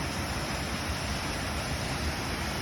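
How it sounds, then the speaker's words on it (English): Constant broadband rushing of a waterfall on the Fimmvörðuháls trail in Iceland, a steady even roar without pauses or voices, heard from some distance above. "The same waterfall from up high."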